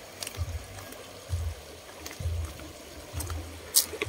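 Mountain water stream running in a rural province setting, a low burbling flow with soft splashing pulses that rise and fall every second or so, close by and fairly quiet, with no talking.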